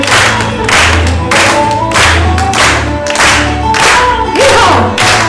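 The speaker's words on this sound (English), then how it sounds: "Clap your hands." Church congregation clapping hands along with lively gospel instrumental music, steady loud rhythmic claps layered over a driving band with bass and melody throughout.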